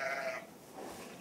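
A sheep in a pen with a newborn lamb gives a short, faint bleat followed by a softer breathy trailing sound, heard alone on a Victorian-era farm.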